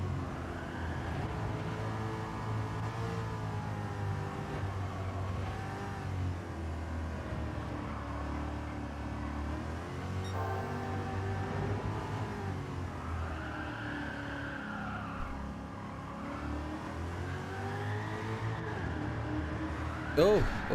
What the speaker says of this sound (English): I think I'm going to let it rev out a little bit